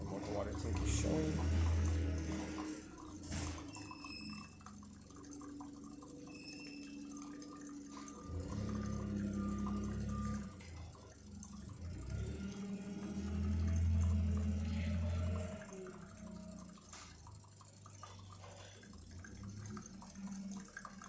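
A DeLonghi Magnifica Cappuccino S espresso machine pumps water through during descaling, giving a steady low pump hum with liquid trickling and dripping, swelling and easing in waves under a person talking.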